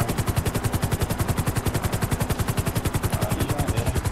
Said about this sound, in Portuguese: Até os caras começaram a atirar.